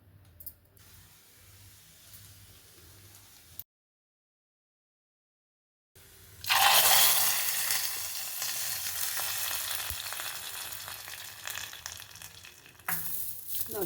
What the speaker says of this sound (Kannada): ಇವಾಗ ಇದಕ್ಕೆ ಒಗ್ಗರಣೆ ಮಾಡ್ಕೊಳ್ಳೋಣ.